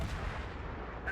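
Main battery shells firing from a Haarlem warship in World of Warships, heavy booming gunfire that swells into a dense, continuous rumble with no clear separate shots.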